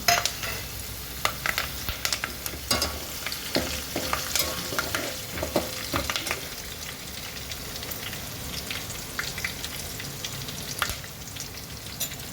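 Curry leaves hit hot oil for instant rava idli and crackle in a dense sizzle, with sharp pops and spits that settle into a steady frying hiss.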